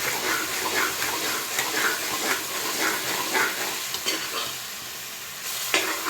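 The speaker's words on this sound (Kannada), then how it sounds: "ಅದನ್ನು ಚೆನ್ನಾಗಿ ಫ್ರೈ ಮಾಡಬೇಕು ಹಸಿ ವಾಸನೆ ಹೋಗೋ ತನಕ ನೋಡಿ" Mutton boti frying in a pan and being stirred, a steady close sizzle with repeated scraping strokes running throughout, no voices.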